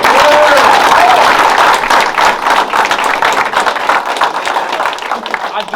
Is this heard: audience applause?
yes